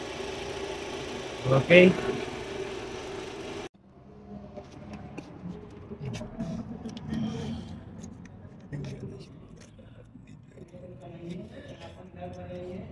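A 2011 Hyundai Sonata engine, faulted with misfire codes, runs steadily just after starting, a low continuous idle with faint knocking under someone speaking briefly nearby.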